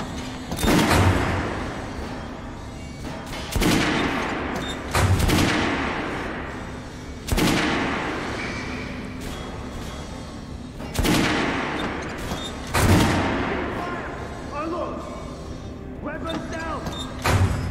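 Soldiers firing rifles in Metro Last Light Redux, sharp volleys of gunfire cracking at roughly three-second intervals, each burst loud and close with ringing tails, with voices speaking between shots.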